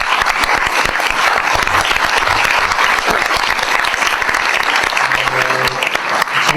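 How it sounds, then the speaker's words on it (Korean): Audience applause fills a hall at a human rights organization's tenth anniversary ceremony and thank-you night, loud, dense and steady throughout with no pause. "박수 한번 보내드릴까요?"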